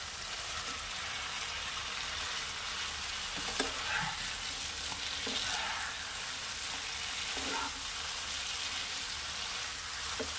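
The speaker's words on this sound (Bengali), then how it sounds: "এবারে দিয়ে দেবো ভেজে রাখা মাছগুলো" Fried puti fish stirred into sizzling, well-cooked curry masala in a pan, a dense continuous frying hiss with occasional soft scraping stirs, close and steady with no talking.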